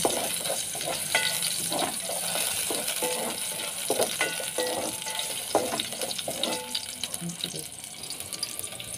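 Ginger frying in a small amount of oil in a pan, a soft, steady sizzle with scattered crackles and the clink of stirring, while a voice talks nearby.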